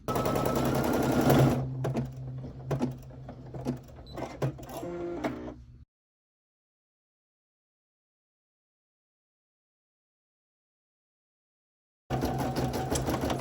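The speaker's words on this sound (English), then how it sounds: "allow the machine to stitch it into place" An embroidery machine stitches a coffee mug rug in the hoop with a busy, rapid needle chatter that runs steadily, thins out, then stops for several seconds of silence before the stitching starts up again.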